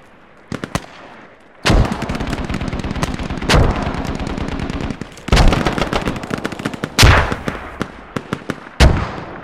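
Mortar rounds fire and strike in a tactical multiplayer squad shooter, a string of sharp, loud booming reports and crackling impacts spread unevenly across the stretch, some close and punchy, others trailing off with rumbling echoes.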